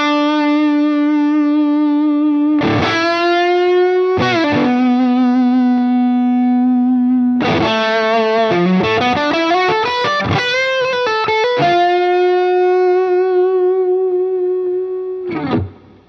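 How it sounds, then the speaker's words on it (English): Electric guitar run through a Line 6 Helix amp model with sag turned fully up, giving a chewy, tube-like breakup. Loud sustained distorted notes and chords ring out alone, broken by short pauses and fresh attacks, with a rapid run of notes in the middle. "with the sag maxed out, you're getting something that a lot of blues players would appreciate. Kind of the chewy, natural breakup of a cranked tube amp."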